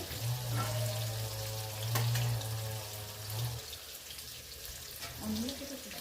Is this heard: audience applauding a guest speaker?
no